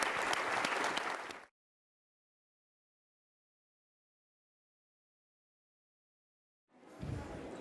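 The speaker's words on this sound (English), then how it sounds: "can we have a round of applause for our two leaders here today?" Applause from a conference audience for two leaders at a panel event on state-local fiscal relations, a dense burst of clapping that cuts off abruptly, then silence before crowd noise returns near the end.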